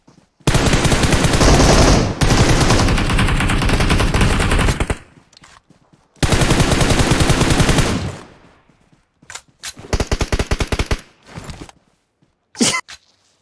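Rapid automatic gunfire in PUBG Mobile: long, loud, sustained bursts of shots, a pause, another long burst, then several shorter scattered volleys and a final quick burst.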